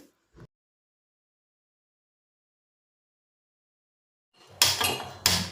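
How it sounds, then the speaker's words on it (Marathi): A pan set down on a gas stove in a home kitchen, giving a couple of loud metallic clanks and scrapes close by after a long stretch of quiet. "इथं मी गॅस सुरू केला आणि त्याच्यावरती हा पॅन टेकवलेला आहे"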